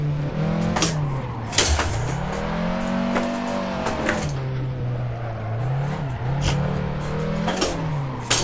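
A race car in Assetto Corsa runs at full throttle, its engine note climbing and falling through gear changes and wheelspin, loud and steady, with occasional sharp knocks and no talk.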